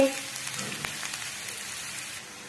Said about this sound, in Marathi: छान असा आपला कांदा भाजत आहे।